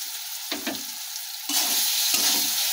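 Mango pieces sprinkled with turmeric sizzle in hot oil for a thin mango chutney, a steady close frying hiss that swells louder midway, with light stirring scrapes and no talking.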